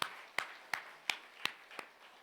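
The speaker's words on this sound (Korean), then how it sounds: "깨닫으면 다시 한번 박수로 영광" A church congregation claps in rhythm: six sharp, evenly spaced claps, fairly faint, with brief quiet between them.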